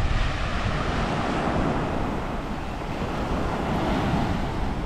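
Steady surf washing onto a quiet, empty beach, a continuous broadband roar of breaking waves with some wind buffeting the microphone, no voices.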